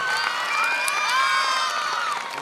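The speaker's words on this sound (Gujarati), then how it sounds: "તો એકવાર જોરદાર તાળીઓના ગડગડાટથી અમને વધાવી લઈએ" A crowd at a Gujarati stage program honoring a guest erupts in loud, sustained cheering and whooping, with a dense wash of voices that holds steady throughout.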